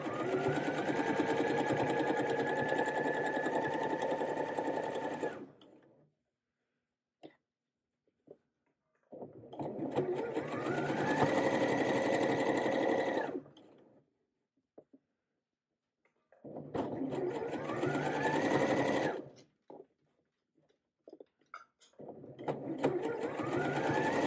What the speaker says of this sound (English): you are stitching as close as possible to the seam